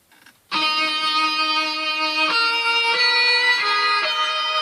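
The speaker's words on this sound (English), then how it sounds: "the guitar is playing this melody here at the end of the whole passage" An electronic track's passage closes on a guitar melody of a few sustained notes, each held then stepping to the next, bright and clear, playing alone after a brief soft intro.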